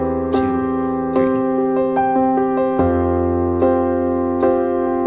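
Worship-style piano chords are struck in steady quarter-note hits, about eight evenly spaced attacks ringing into each other, with a chord change partway through; played close and alone with no voice.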